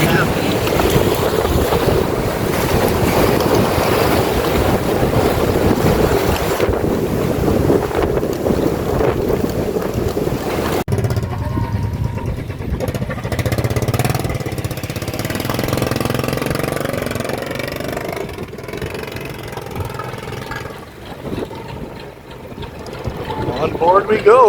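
Passenger ferry out at sea off Alabat Island in the Philippines, its engine drone and water wash steady throughout, mixed with heavy wind buffeting the microphone and a low churning rumble in the second half.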